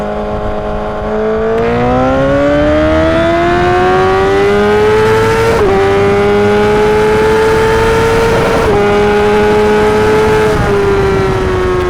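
A Honda CBR1000RR SP1 sportbike with a stage 2 tune accelerates from second to fourth gear. Its loud engine whine climbs steadily in pitch and drops briefly at each upshift, heard close up with strong wind rush.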